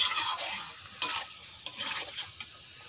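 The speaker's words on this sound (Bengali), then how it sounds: "এই যে রান্না হচ্ছে কাঠের উনুনে" Meat cooks over a wood-fired stove, sizzling steadily while a utensil stirs and scrapes the pot in a few distinct clatters.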